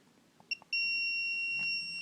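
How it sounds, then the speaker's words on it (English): A multimeter in continuity mode tests parts on the X board of a Samsung PN43D450A2DXZA plasma TV. Two short chirps come first, then a steady high electronic beep rings out loud and unbroken until the end, signalling a direct short. "You hear the beep. That means it's a direct short"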